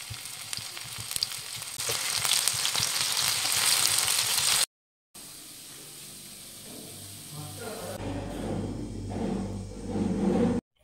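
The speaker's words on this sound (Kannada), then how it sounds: "ನಂತರ ಡೀಪ್ ಫ್ರೈ ಮಾಡ್ಕೊಳ್ಳೋದು" Masala-coated paneer deep frying in oil, with a loud, dense hissing sizzle that cuts out briefly, then returns with a lower bubbling crackle and some background murmur.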